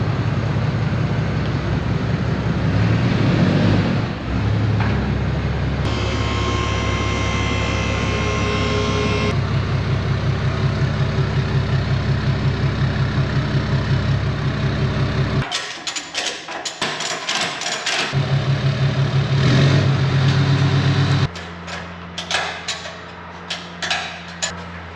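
A Cummins diesel truck engine fitted with a delete kit runs steadily and loudly nearby for a long stretch, a rumbling, knocking idle with shifts in tone and some clattering breaks partway through, with no talking.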